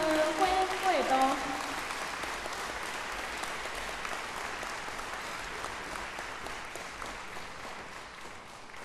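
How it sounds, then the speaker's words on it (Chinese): Sustained audience applause at a Chinese concert, welcoming two erhu players onto the stage. A brief tone is heard at the start, then a dense, steady wash of clapping continues throughout. "我们掌声欢迎两位"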